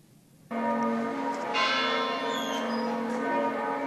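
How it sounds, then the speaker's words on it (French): Church bells in northern France ring out loudly and continuously for a First World War commemoration after a brief quiet start, their overlapping tones sustained and resonant with a second bell joining in. "Des cloches qui se répondent, des cloches pour se souvenir."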